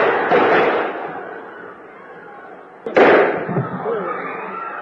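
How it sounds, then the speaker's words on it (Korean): Gunshots fired inside the National Theater in Jangchung-dong during a Liberation Day ceremony: two loud, sharp, reverberating blasts about two and a half seconds apart, each trailing into a noisy rumble that fills the hall. "국립극장에는 7발의 총성이 울려 퍼졌고"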